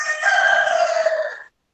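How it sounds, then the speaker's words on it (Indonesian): A rooster crows once, loud and close, a single drawn-out call held for well over a second before cutting off abruptly into silence. "ayam yang berkokok barusan saja"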